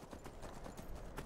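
Horse hooves clip-clop in a steady, quick rhythm while riding in Skyrim, close and moderately loud with no talking over them.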